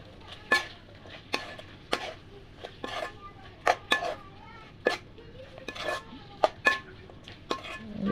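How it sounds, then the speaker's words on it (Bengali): Taro stolons being stirred in a cooking pan with tamarind: a spoon knocks and scrapes against the pan in repeated sharp clinks at an uneven rhythm, close by, over a faint background hiss. "লতিটা ভালো করে নেড়ে চেড়ে নিলাম।"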